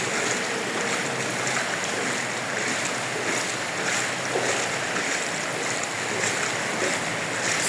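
Water rushes through a big tunnel in a continuous, even roar that echoes, loud and broadband, with no clear break and no voices.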